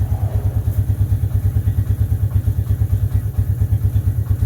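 A 1996 Suzuki Quad Runner 250 ATV engine idles close by with a steady, rapid low chugging pulse that stumbles and sputters unevenly, with faint clatter over the throb.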